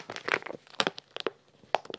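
Plastic vacuum packaging around a fluffy rug being torn open, a series of close, quiet crinkles, rips and crackles in irregular bursts.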